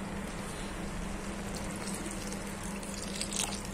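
Water poured into a pot of banana flower curry makes a steady, continuous splashing flow with a low hum beneath it, close and fairly quiet, with no talking over it.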